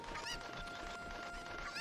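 A cucco chicken in Ocarina of Time gives a short, honking cluck, a bright game sound that repeats briefly over a steady background bed.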